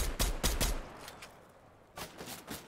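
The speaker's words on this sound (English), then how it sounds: "I'm being shot at" Gunfire aimed at the player in a video game comes as two short bursts of rapid shots, the first loud and close, then a brief lull before the second volley.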